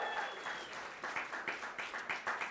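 Audience at a live NYC School of Data civic tech event breaks into clapping, a dense steady wash of applause with a few louder rhythmic bursts, moderately close and without any talk over it.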